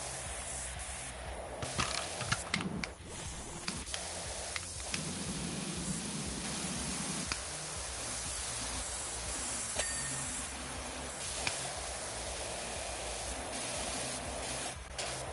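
A pressure washer spraying in the video game Power Wash Simulator 2, a loud, steady hissing jet that runs nearly nonstop, with brief shifts in pitch and intensity as the stream moves across surfaces.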